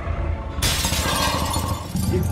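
Glass shatters loudly and suddenly in The Wolf Among Us video game, a bright crashing burst that rings on with scattered tinkling fragments for well over a second.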